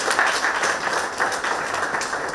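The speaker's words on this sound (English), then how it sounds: "Big round of applause." Workshop audience applauding together, a dense, steady wash of many hands clapping at moderate volume with no voices over it.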